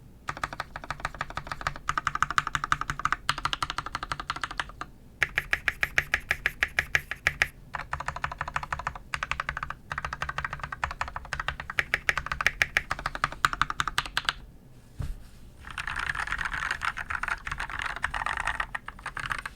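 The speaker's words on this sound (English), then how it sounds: "let's get you guys some typing test" Rapid typing on a Ducky Shine 7 mechanical keyboard rebuilt with Gateron Yellow switches, dense clacky keystrokes in bursts with short pauses between runs, close and clear.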